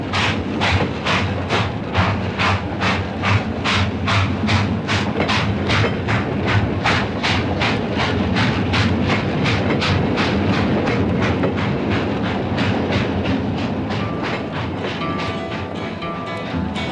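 A train runs steadily along the rails with a fast, even clickety-clack of wheels over rail joints, loud and close, a rumbling undertone beneath the regular beats.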